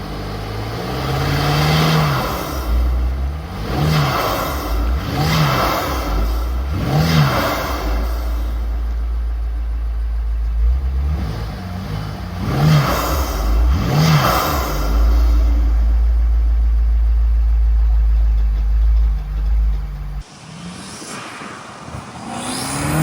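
A BMW M8 Competition fitted with front mount intakes, its engine revved repeatedly up and down in sharp rising and falling sweeps, loud and close, with a steady idle rumble between bursts.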